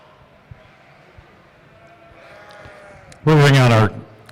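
Romney ewe at a sheep show ring gives one loud, close bleat near the end, quavering for about half a second after a stretch of quiet arena murmur and faint shuffling.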